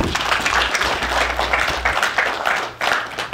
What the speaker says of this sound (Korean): 박수를 칩니다.